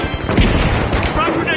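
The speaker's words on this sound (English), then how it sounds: "Sending a frag!" A frag grenade blast in a battle-royale style video game, a short loud boom mixed into crackling gunfire and crashing debris, all heavy and close over about a second and a half.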